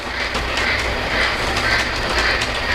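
A model ELF work train runs along its track in a Polar Express layout operating session, giving a steady close rumble and rail clatter with faint rhythmic clicks, no voices.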